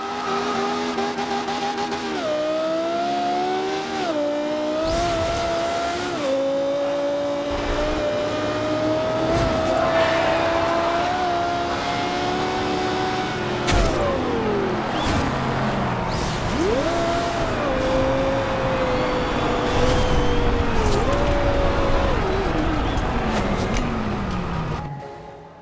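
A Lexus LFA tuned to 777 horsepower in the racing game Forza Horizon 2 revs hard, its high, shrieking exhaust climbing and dropping through gear changes, with bursts of tire squeal along the way.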